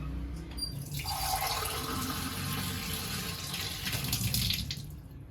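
Water pours steadily from a tap into a drinking cup, being measured for making strong tea, with a continuous close splashing rush and the tone shifting as the cup fills, no talk.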